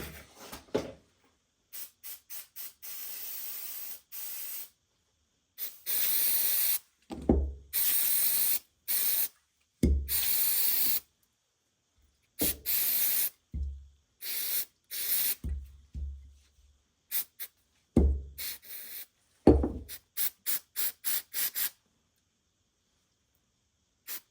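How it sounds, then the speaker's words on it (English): Cleaner is sprayed into a greasy Harbor Freight tool in a series of loud, close hissing bursts of varying length separated by silences, with occasional faint mechanical clicks and no talking. "so we'll try to spray that out."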